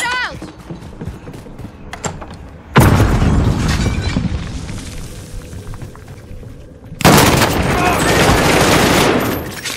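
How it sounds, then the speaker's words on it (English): Grenade blast and gunfire in Call of Duty Warzone: two loud, sudden booms, each trailing into dense rattling fire and rumble, with voices talking over the action. "Grenade out!"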